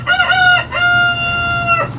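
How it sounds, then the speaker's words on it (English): A rooster crows loudly and up close, two long drawn-out calls back to back, with a steady low hum in the background. "as you can hear, the the chickens are getting restless"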